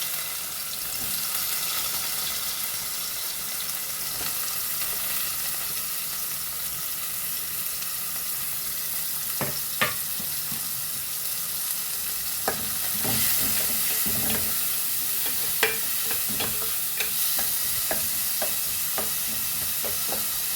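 Onions fry in hot oil in a pan for a gongura chicken pickle: a steady, even sizzle runs throughout, with occasional sharp clicks and scrapes of stirring in the second half.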